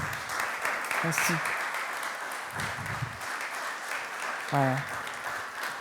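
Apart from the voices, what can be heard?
church congregation applauding baptized people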